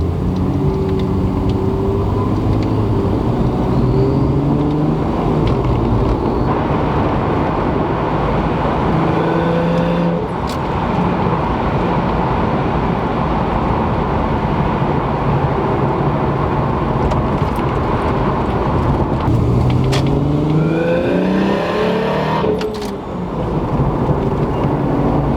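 Lexus IS300 fitted with a CX Racing turbo kit driving, engine rising and falling through gear shifts under a steady road rumble, heard from inside without voices.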